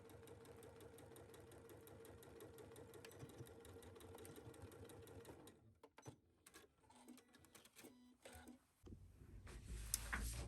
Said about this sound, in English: At our sewing machines, we're going to stitch this down at 5/8 on each side.